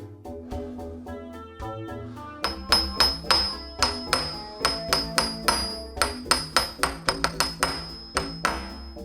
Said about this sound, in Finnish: semmonen tupsahdus, toi ääni ei ole niin terävä